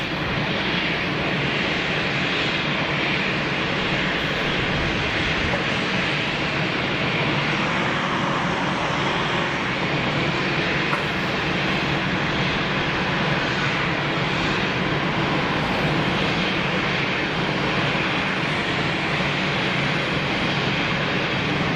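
An Emirates Boeing 777 jet airliner rolling out at Geneva Airport, a steady broadband engine roar holding at constant loudness throughout, heard from a distance with no talk.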